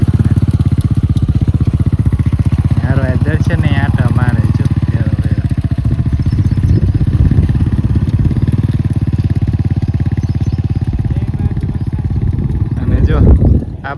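A motorcycle engine pulling a farm plough runs steadily throughout in a village field near Botad, a low continuous rumble with a crackling edge, while voices talk over it outdoors.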